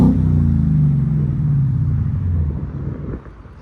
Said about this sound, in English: 22 Ford Mustang. It's so loud.